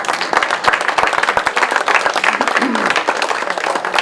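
Applause from an audience at an adult social center mentalist show, dense and continuous clapping by a room full of people, fairly close and loud, with a voice audible over it.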